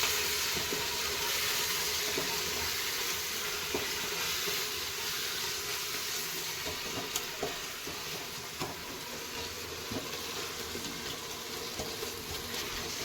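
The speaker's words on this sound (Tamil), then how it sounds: "போட்டு நல்லா வதக்கணும்" Chilli masala sautéing in a pan for chicken biryani: a soft, continuous hiss of frying holds steady throughout, faint and close, with occasional light ticks from stirring and no voices.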